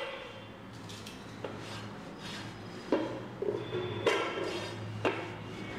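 Flour-dusted maida paratha dough being rolled out on a kitchen surface gives soft, quiet rubbing and scraping with a few light knocks, faint and close with no talk.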